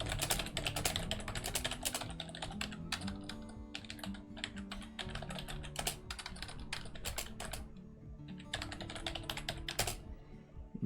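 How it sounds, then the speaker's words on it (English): Rapid, continuous typing on a computer keyboard: dense, fairly loud clicking and clacking keystrokes close by, with no talking. "let me show you what I'm actually typing on the Steam Workshop"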